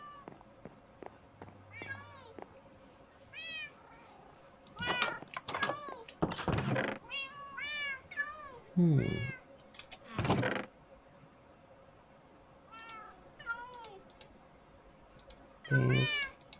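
Cats meowing in the Minecraft video game, repeated high cries scattered across the scene, some overlapping, with keyboard typing and occasional talk in the background.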